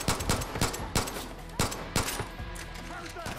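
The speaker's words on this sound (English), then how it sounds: "I'm shooting them down." Gunfire in the video game Far Cry New Dawn: a string of loud, sharp shots and short bursts spaced irregularly across a few seconds, close and punchy.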